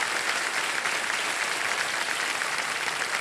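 Studio audience of a TV quiz show applauds a contestant, a steady, dense wash of many hands clapping throughout with no voices breaking through.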